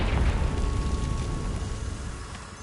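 Confringo blasting spell explosion in the Hogwarts Legacy video game, a loud, sustained rumbling blast with dense low-end roar that stays heavy throughout and slowly fades toward the end.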